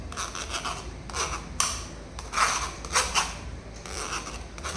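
Green mango pulp being rubbed through a sieve, soft intermittent scraping strokes in short bursts, close and fairly quiet with nothing else heard.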